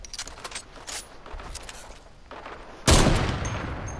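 Video game gunfire, a loud burst of shots that starts partway through and rings on to the end, after quieter scattered game noise.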